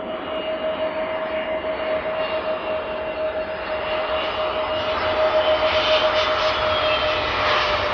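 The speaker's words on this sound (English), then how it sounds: "While landing at Brussels airport, this Airbus A320's tires burst." Airbus A320 jet coming in to land at Brussels airport, its engine roar loud and steady and swelling slightly toward the end, with no voices.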